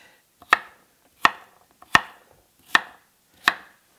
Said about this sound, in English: We're gonna take 3 ribs of celery and coarse cut them.